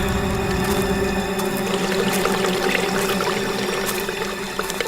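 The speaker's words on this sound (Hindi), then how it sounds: "ये पानी की आवाज आ रही है," Water pouring and trickling near a pond in a countryside setting, a steady continuous flow heard fairly close and alone, with no voices over it.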